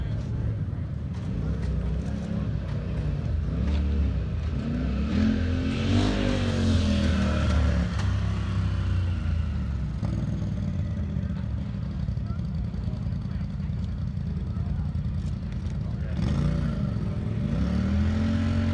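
UTV engine roaring and revving hard at the King of the Hammers off-road race, a loud continuous drone rising and falling in pitch throughout, with voices mixed in.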